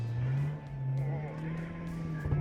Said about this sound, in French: Ça patine, ça patine.